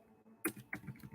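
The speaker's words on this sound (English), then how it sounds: "The heck, it's hard to type." Sticky computer keyboard keys are typed on in a few uneven close taps and clacks, quiet and isolated with brief pauses between strokes.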